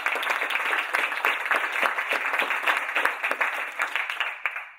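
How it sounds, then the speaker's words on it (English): An audience in a Tampa theater applauds the coaches, a lively burst of many hands clapping with crisp individual claps, gradually thinning and fading out at the end. "I'd like to give them another round of applause."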